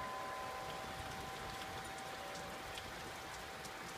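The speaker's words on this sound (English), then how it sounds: "Raining really good in Slovan." Spring rain falls steadily outdoors, a soft, even, continuous patter of drops that stays faint and distant throughout with no voices.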